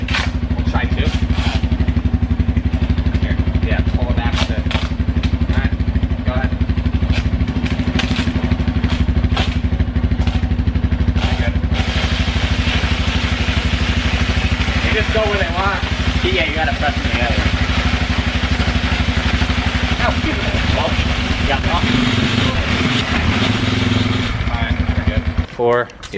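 A drift quad bike fitted with duct tape tires runs with a loud, steady engine drone and clatter throughout, while people talk over it.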